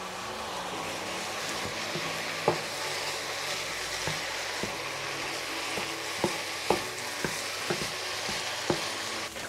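Ground meat sizzles steadily in a hot pan for taco filling, a dense even frying hiss broken by several sharp scrapes and clacks from a spatula breaking up the meat.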